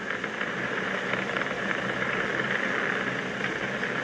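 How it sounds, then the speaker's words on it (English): The engines of a SpaceX Falcon 9 rocket throttle down during a crewed launch in June 2020. A dense, continuous roar holds at an even level for the whole stretch, loud and unbroken, with no voices over it. "We're throttling down to get ready for the period of maximum dynamic pressure."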